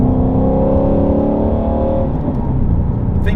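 A 2016 Ford Shelby GT350 engine revs loud and close, a rising harmonic growl that holds and then drops away into a rougher idle rumble, with no talk.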